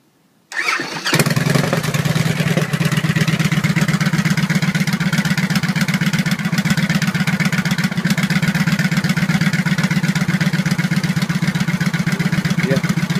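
A 2012 Victory Vegas 8 Ball cruiser motorcycle fires up after a brief silence and settles into a loud, steady, close-up idle with a rapid, even rumbling pulse that holds without revving for the rest of the stretch; no talking.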